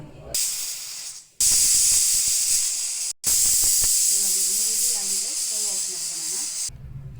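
Loud, steady hiss of steam escaping a pressure cooker cooking lentils, cutting out briefly twice, with faint voices murmuring underneath in the later part.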